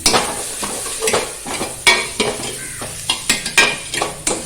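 Curry leaves fry in a pan while a spoon stirs them, loud close scraping strokes in an uneven rhythm over a continuous sizzle.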